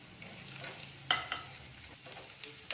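Chopped capsicum frying in a pan with garlic and ginger, a faint steady sizzle with a few sharp stirring clicks and scrapes.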